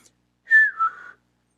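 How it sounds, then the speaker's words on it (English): A single clear, crisp whistle sounds alone in quiet surroundings. It starts as a sharp, steady tone and then slides slightly lower over about half a second. "she heard a clear and a very crisp whistle"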